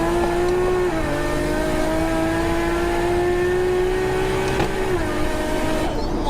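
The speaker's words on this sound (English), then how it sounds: "That's kind of more what I was expecting the shift to sound like." A car engine holds a steady, sustained drone, its pitch dipping briefly near the one-second mark and again near five seconds as the transmission changes gear, with no talking over it.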